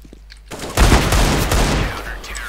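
Burst of rapid gunfire in the video game CS:GO, a sharp loud volley followed by sustained shooting that fades off.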